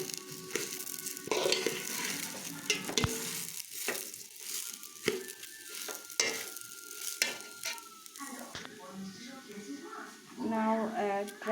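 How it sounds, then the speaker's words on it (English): Cauliflower frying in oil for ghee rice, stirred with a spatula in bursts of scraping and clattering over a crackling sizzle, close, with a person talking in between. "Fry it"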